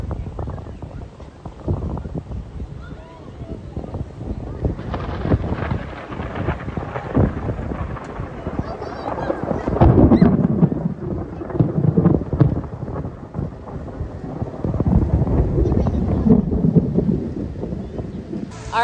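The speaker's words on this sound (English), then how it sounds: "We need to get out of here before it starts raining. Yeah, it's just a little thunderstorm." A thunderstorm in Florida rumbles with deep, rolling thunder that swells and fades over nearly twenty seconds, mixed with wind buffeting the microphone and a wash of rain-like noise.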